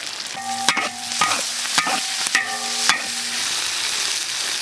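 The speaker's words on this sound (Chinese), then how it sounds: "要炒香这豆瓣酱，特别是豆瓣酱" Chili bean paste (doubanjiang) stir-fried in a wok with seasoning sauces for sour bamboo shoot crucian carp, a steady sizzle broken by several sharp scraping spatula strokes and metallic clinks, fairly loud and close, no voices.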